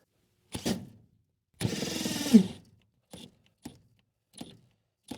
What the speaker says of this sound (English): This little drill ain't got enough juice.